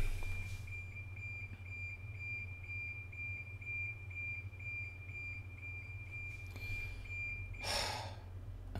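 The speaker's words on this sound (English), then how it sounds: "oh, car alarm going on outside of my house" A car alarm sounds outside a house, a steady high-pitched electronic tone looping continuously under a low hum, with a brief louder burst near the end.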